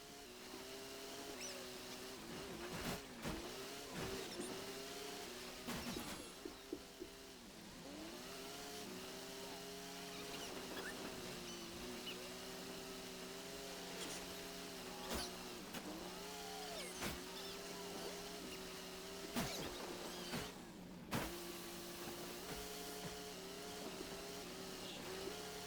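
An APC armored vehicle drives in a GTA Online casino heist setup mission, its steady engine drone continuing for the whole stretch, with occasional sharp impacts and shifting tones over the top.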